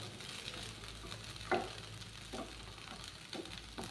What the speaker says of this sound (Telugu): ఇలాగా ఫ్రై అవుతుందన్నమాట